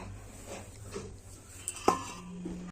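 Shukto, a Bengali vegetable dish finished with ghee, is stirred in a cooking pot. Faint scraping is followed by a single sharp metallic clink as a lid goes on, all quiet, with no voices.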